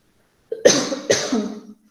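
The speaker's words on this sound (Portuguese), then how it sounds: "Eu tô com uma tosse, não liguem não." A person coughs twice in quick succession, close and fairly loud, during an online biochemistry class. No words are spoken.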